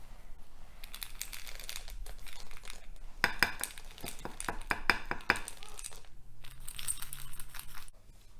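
Chocolate chip banana bar batter being stirred in a bowl, with steady scraping, clinking and wet crinkly mixing sounds running continuously, close and fairly loud, including a burst of sharper utensil knocks midway.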